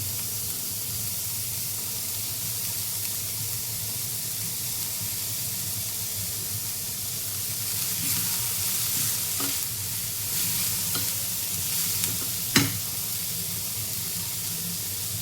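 Cabbage, carrot and onion stir-fried together in a pan as momo filling, giving a steady low sizzle throughout with a few sharp scraping stirs near the end and no talking.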